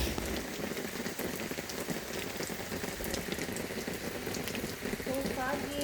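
Rain falling on a cold, foggy first day of October, a steady close hiss of dense drops pattering on surfaces without pause, with faint voices briefly near the end.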